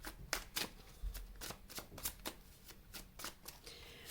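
Tarot cards are shuffled by hand in a quiet room, a series of quick papery riffles and soft slaps in an irregular rhythm, close and fairly soft, with no speech.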